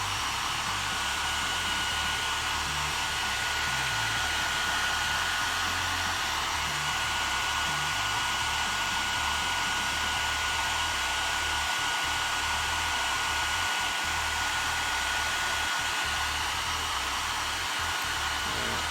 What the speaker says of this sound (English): Gonna give this a quick blast with a hairdryer just to make sure all of these areas on the Crozius and the exhaust are dry.